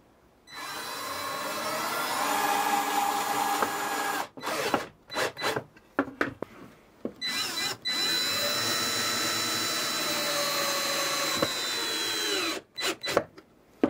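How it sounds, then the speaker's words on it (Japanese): A drill driver drives a wood screw into timber for furniture-making woodwork, its motor whining in a long sustained run, then a string of short clutch-controlled bursts, another long run and final quick pulses, close and loud with no talking. "その後ドリルドライバーなどで締め付けます"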